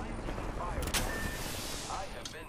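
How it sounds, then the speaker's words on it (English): Video-game gunfire crackles in a short burst of sharp shots near the middle, mixed with game noise and voices. "I am taking fire."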